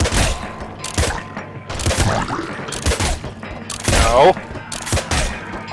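Loud, rapid bursts of video-game gunfire from Nuclear Throne come in repeated volleys with short gaps between them, while a player speaks briefly over the shots.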